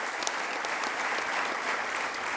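A crowd at the Ford C. Frick Award ceremony applauds for Hall of Famer Tim McCarver, a dense, even wash of clapping that holds steady throughout.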